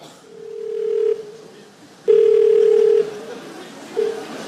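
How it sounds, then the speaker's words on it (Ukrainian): A telephone call going through, with two long steady dial-tone beeps and a short third one, loud and clear, and no talking. "Ми дзвонимо Олегу"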